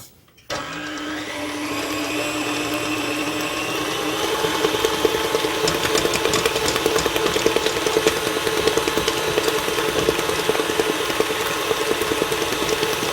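A stand mixer with a paddle beats powdered sugar in its bowl: a steady, loud motor whine with a rhythmic churning rattle starts abruptly and runs unbroken, close up, with no talk.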